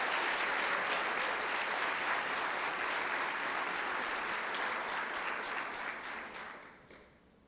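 A church congregation applauds in sustained, dense clapping that holds steady for several seconds before tapering off toward the end.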